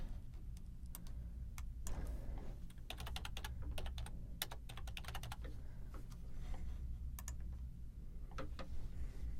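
Fingers typing on a computer keyboard while editing text, a fast, irregular run of close, crisp key clicks over a quiet room hum, with no voices.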